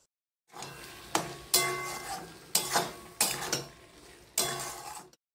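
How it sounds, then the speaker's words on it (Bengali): Marinated mushrooms stirred into fried spices in a pan for a mushroom curry: repeated scraping strokes of a spatula with a low sizzle, five or six distinct bursts, close and clear. "আমরা ম্যারিনেট করে রাখা মাশরুমটা এর মধ্যে দিয়ে আবার ভালো করে কষিয়ে নিচ্ছি"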